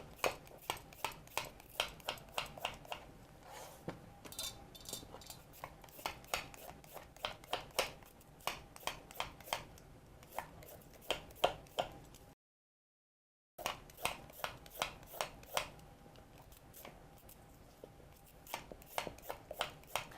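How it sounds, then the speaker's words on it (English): A knife chops sweet potatoes into rounds on a cutting board, giving steady, sharp, close knocks in a regular rhythm with a brief silent gap partway through. "We'll peel them and then we'll cut them into silver dollar rounds."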